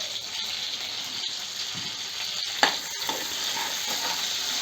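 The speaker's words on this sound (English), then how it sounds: "Fry the garlic and shallots." Peeled garlic cloves and shallots fry in a hot pan for a village-style dry fish curry, a steady, dense sizzle that holds throughout with a couple of faint clicks from the pan.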